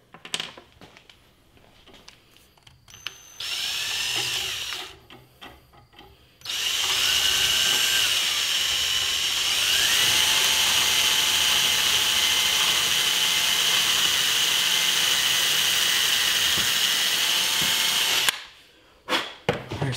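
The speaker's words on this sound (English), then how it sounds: "We're going to work on drilling out our holes" A power drill bores holes into a Marlin Model 38 rifle stock: a short first run, then a long, loud, steady whine lasting about twelve seconds, close up, with brief clunks of handling before and after.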